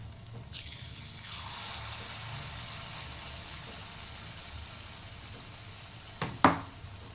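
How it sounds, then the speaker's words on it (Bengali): Pua sweets fry gently in oil over a low flame, a steady soft bubbling sizzle with a couple of sharp knocks of a utensil against the pan near the start and end. "একটু লো ফ্লেমে এটাকে ভাজতে হবে।"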